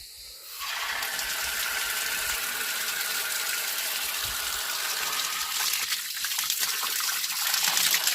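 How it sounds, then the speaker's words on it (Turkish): Water runs from a weak-flowing fountain on a hiking trail along the Lycian Way, making a steady, close rushing wash that continues unbroken for the whole stretch. "Ve şu anda bu çeşme çok kötü akıyor."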